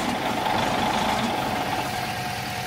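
A GALION T500 grader abandoned for 17 years runs briefly after a repaired fuel pump is refitted, its diesel engine giving a loud, steady, rough drone close by.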